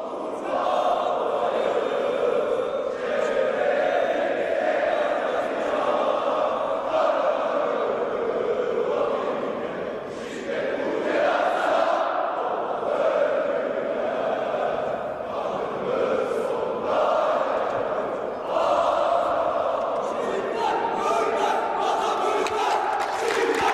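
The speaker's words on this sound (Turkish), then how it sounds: "Maç öncesinde seyirciler İstiklal Marşı'mızı okuyor şu anda" A stadium crowd of spectators sings the Turkish national anthem before a Bursa Büyükşehir Belediyesi versus Fenerbahçe women's volleyball match, a loud, sustained, echoing mass of voices that carries on with only brief dips.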